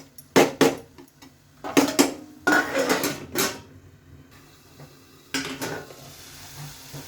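A metal spoon stirs dry shrimp cooked with onion, coriander-cumin powder and garam masala in a pan, giving several sharp clanks and scrapes against the pot with a soft sizzle between, then a lid clatters on.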